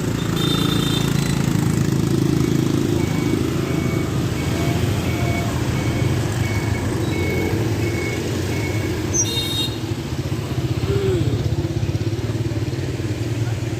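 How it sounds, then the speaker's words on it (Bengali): Heavy motorbike traffic at a Vietnamese market, a dense continuous drone of small engines passing close, with scattered beeps and market noise mixed in. "প্রচণ্ড মোটর বাইক এখানে পার হতে পারছি না"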